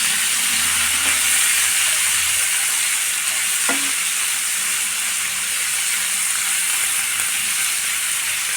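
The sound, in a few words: onions frying and being stirred in a pan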